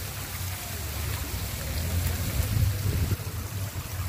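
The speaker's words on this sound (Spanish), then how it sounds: "Este caballero disfruta del agua para darse una lavadita ahí." Steady water rushing along a stream in Guayúa park as a man washes himself in it, a continuous low, broadband flow with some splashy texture swelling slightly in the middle, no talking.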